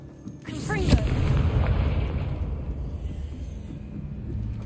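A Confringo fire spell in Hogwarts Legacy bursts into a loud booming explosion with a sharp crack, followed by a rumbling roar that slowly fades.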